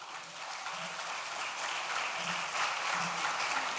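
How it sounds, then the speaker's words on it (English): Steady applause from an audience at an agribusiness summit launch as a minister is welcomed, an even wash of many hands clapping at moderate level throughout, with no voices on top. "Please, let's clap for her"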